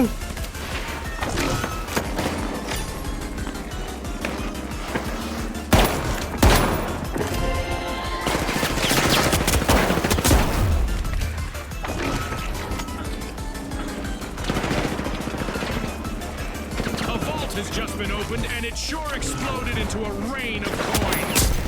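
Gunfire in the shooter The Finals: rapid bursts of automatic fire and sharp single shots, with occasional impacts and crashes, fill a busy firefight while someone talks over the action.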